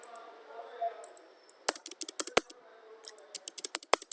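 Computer keyboard keys clack in quick irregular bursts, close and crisp, with short pauses between runs of typing.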